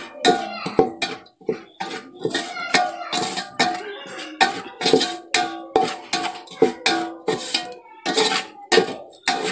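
Mushroom roast stirred in a pan with salt and pepper, a spoon scraping and clinking against the metal in a steady series of sharp, close, fairly loud strokes, with no talking.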